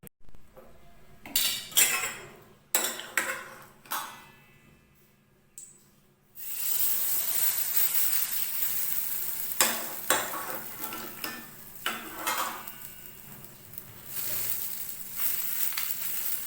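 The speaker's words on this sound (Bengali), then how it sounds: "তো তেল দেখুন গরম হয়ে গেছে, এবার আমি ওটসের যে ব্যাটারটা তৈরি করে রেখেছিলাম সেটা এর মধ্যে দিয়ে দেবো।" Oats batter for a breakfast recipe hits hot oil in a pan: a few sharp spoon clinks and scrapes come first, then a sudden, loud, steady sizzle takes over, near and continuous, with occasional utensil scrapes and no talking.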